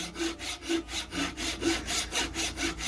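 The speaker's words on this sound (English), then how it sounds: "I'm just going to cut this off with a handsaw." Handsaw cutting through a wooden baseball bat blank, a steady rhythmic back-and-forth rasp of about seven even strokes, close and loud with no talk.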